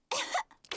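A cartoon character coughs in the Peppa Pig episode about Pedro's cough, giving one harsh, throaty burst followed by two shorter ones, up close and alone.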